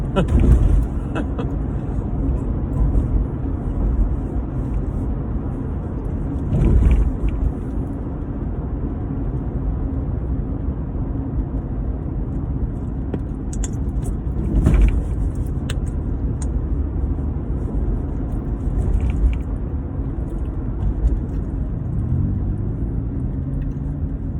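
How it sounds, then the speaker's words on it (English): Cars pass on a busy city road, heard from a vehicle while driving: a steady low traffic rumble with a few louder swells as nearby vehicles go by. "You can see all the cars passing by me, I think."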